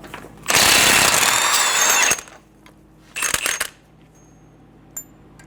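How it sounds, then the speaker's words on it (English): Removing the 32mm axle nut from a 2011-2014 Hyundai Sonata front hub: a loud burst of power-tool whirring for about a second and a half, then a shorter second burst and a faint metallic tick, with no talking. "Using a 32mm socket, remove the axle nut"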